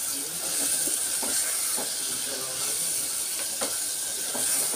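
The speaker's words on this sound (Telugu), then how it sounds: "టమాటా వేసేసుకుని ఇప్పుడు ఇది కూడా చక్కగా వేగిపోవాలి." Chopped tomatoes sizzle over fried onions in a clay pot, a steady close hiss of frying with faint crackles throughout.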